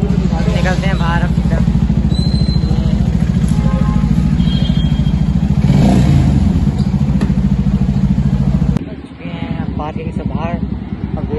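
A motorcycle engine runs steadily, close and loud, as the bike rides out of a parking lot at night in Delhi, then cuts to quieter traffic noise near the end.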